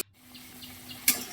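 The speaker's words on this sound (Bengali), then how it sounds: "আমি এবার গরম জল এক বাটি ঢেলে দিলাম।" A bowl of hot water poured into a cooking pan of sautéed ginger paste for a raw mango dish gives a brief close splash and gush that settles into a soft watery hiss.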